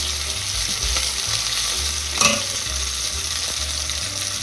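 Meat for osso buco sears in a hot pan with a strong, continuous sizzle, a brief sharper crackle burst midway and a low rumble beneath, with no speech.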